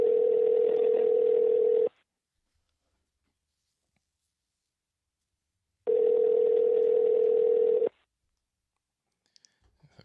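A steady telephone ringback tone sounds in two long bursts separated by about four seconds of silence, fairly loud and close, followed by a few faint clicks as a call is placed.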